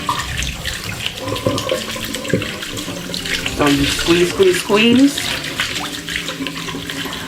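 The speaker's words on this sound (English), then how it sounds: "make sure the water is going through the fibers" Tap water streams steadily through the fibers of a wrap-around ponytail as it is rinsed, squeezed and worked by hand, splashing and gurgling loudly near the microphone while a person talks over it.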